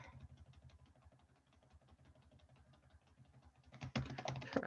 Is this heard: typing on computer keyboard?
yes